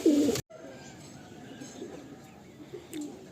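Madrasi pigeons coo inside a loft holding about forty birds, a loud throaty coo opening close by, then a fainter murmur of cooing and rustling that continues underneath.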